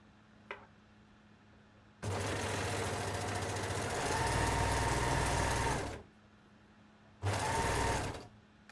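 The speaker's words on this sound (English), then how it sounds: "for this edge I'm using my overlocker" An overlocker serger sews along the edge of a wrap dress in two loud, steady bursts: a long whirring run of about four seconds, a short pause, then a second shorter run, with quiet room tone between them.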